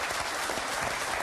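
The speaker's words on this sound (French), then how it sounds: "On applaudit fort Sylvie." A TV game-show studio audience applauds a contestant in a dense, continuous burst of clapping that fills the short moment without pause.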